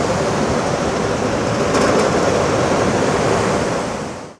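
Ban Gioc waterfall on the Vietnam border sends up a steady, loud roar of rushing water, a continuous broadband wash with no pauses, close by and alone without any talk.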